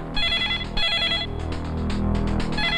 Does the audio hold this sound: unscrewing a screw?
no